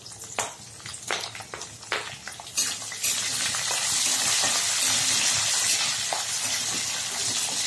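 Green chillies and curry leaves fry in a pan, first with a few stirring scrapes and clatters, then a loud, steady sizzle that swells and holds close.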